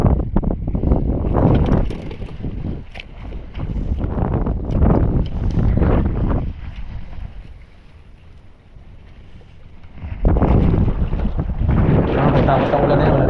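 Strong wind buffets a boat at sea during an offshore fishing trip, a loud, rushing roar against the microphone that eases for a few seconds midway, then surges back hard.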